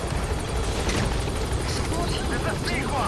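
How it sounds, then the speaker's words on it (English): Support helicopter arriving in Metal Gear Solid V: The Phantom Pain, a loud continuous rotor chop with rapid, steady blade pulses and engine roar, close overhead, with voices talking over it. "This is helicopter. B-Quad. I have arrived at marker."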